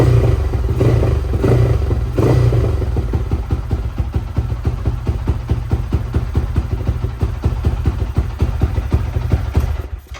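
Yamaha Y15 motorcycle engine running close by, a loud rapid rhythmic putter that blips and revs early on and then settles into a steady idle, fading and cutting off at the end.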